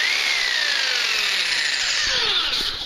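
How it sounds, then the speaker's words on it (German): A power saw whines steadily through wood, a high continuous buzz with a falling pitch as the blade bites in, close and loud. "unsere parkettgepimpte Säge"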